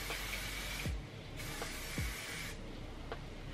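Hair spray hisses from an aerosol can onto a hairpiece in three bursts of about a second each, close and loud with brief pauses between them.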